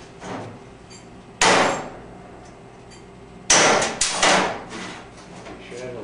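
A hammer strikes a hardened, unannealed steel knife blade in a knifemaking shop, shattering it like glass: a sharp clang near the start, then a second harder impact with bright metallic ringing and breaking, close and loud.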